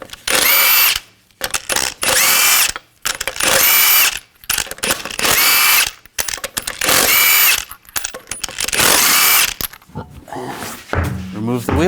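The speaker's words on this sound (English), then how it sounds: "Use a 22mm socket to take the lug nuts off." Impact wrench with a 22mm socket removing lug nuts from a 2014-2018 GMC Sierra 1500 front wheel, loud repeated hammering bursts of about a second each with short gaps and a ratcheting clatter at the end.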